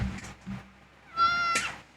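A pet tabby cat meows nearby: two short low calls followed by a longer, higher, clear meow near the end, with no talk over it.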